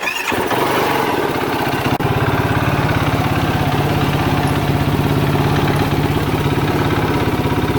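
A 2009-2025 Yamaha YFZ450R ATV engine with a freshly rebuilt motor and new crank idles steadily while warming up after a restart, a loud close single-cylinder thump and rattle, alone and continuous.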